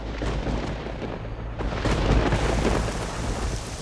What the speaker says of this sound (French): Oh, voilà la pluie.